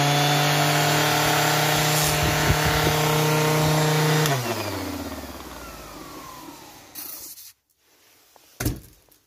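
A Parkside PAEXS20-LI-B2 20V cordless random orbital sander runs at a loud, steady whine, then winds down and stops. A brief burst of sound follows near the end, with no talking.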